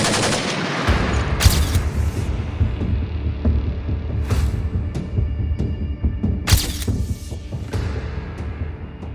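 A sound effect recreating gunfire from the Pahalgam terror attack, where uniformed gunmen fired on the people there. A few sharp bursts ring out over a low, throbbing drone, with no voices.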